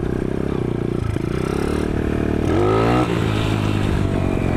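A motorcycle engine revs up and down near the rider during a clutch-up wheelie attempt, with a rising whine of acceleration midway and some rattling clatter.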